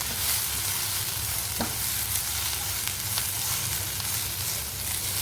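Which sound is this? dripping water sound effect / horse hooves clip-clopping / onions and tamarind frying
onions and tamarind frying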